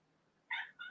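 A pet cat outside meows twice in quick succession, demanding to be let in; both calls are fairly loud and close against a quiet background.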